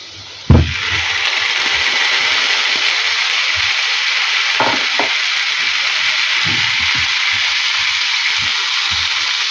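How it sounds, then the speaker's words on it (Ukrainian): Onion and pear pieces fry in a pan with a steady, loud sizzle that holds for the whole stretch, broken by a few soft scrapes and stirs near the start and middle; no voices. "і обсмажую цибулю до прозорості. Підсмажувати її до золотистого не потрібно. Коли цибулька стала прозорою, додаємо сюди груші."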